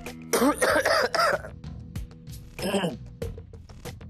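Several harsh coughs and throat clearing in quick bursts, close up, with short pauses between them.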